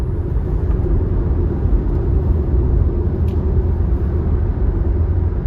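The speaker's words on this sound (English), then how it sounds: "Road noise still has a way to go for both models." Steady low rumble of road noise heard from inside a moving 2022 Tesla Model Y, constant and droning with no speech.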